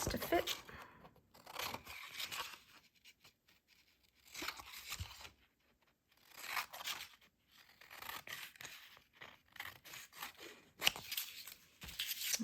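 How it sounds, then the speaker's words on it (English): Scissors snip and tear through grid paper for a rubber stamp journal tag, a few close crisp cutting bursts separated by short quiet gaps, with no one speaking. "So now we can cut that piece to fit."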